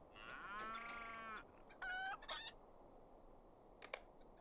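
A rooster crows in the Lord of the Rings Online game, one long strained crow followed by a shorter, sharper second call and a faint brief squawk later, with no talking.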